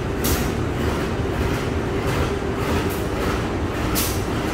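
A Tokyo Metro 5017 series electric train runs with a steady, loud rumble of wheels and motors, broadband and continuous throughout, with a few brief brighter hissing bursts.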